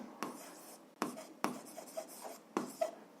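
A pen scratches quickly across paper while an algebra exercise from a seventh-grade course is worked out, in four or five short bursts of strokes separated by brief pauses, close and fairly quiet, with no talking.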